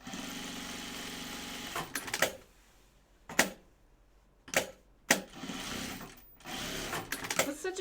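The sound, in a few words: sewing machine stitching pajama bottom pieces at sides and top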